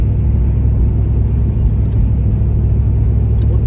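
A car cruises along Banks Lake beside a dam in winter, a steady loud low road rumble and engine drone from inside the vehicle with no break or change in pace.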